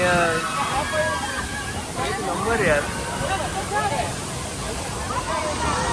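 A constant rush of a small waterfall fills the background, close and steady, while people talk and call out over it.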